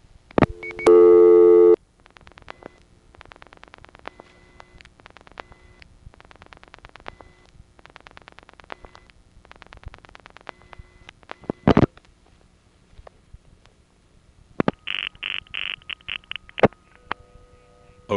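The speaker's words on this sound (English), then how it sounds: "Listen to the clicky noise on this call." Telephone switching equipment on a 1970 call, December, Kennedy Airport area: a loud tone burst, then long runs of fast, rapid clicking pulses, a sharp click, and later a bright warbling tone with more clicks, no talk.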